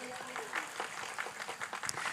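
An audience at an Islamic religious gathering in Pati claps in a brief, scattered round of applause, mixed with a speaking voice.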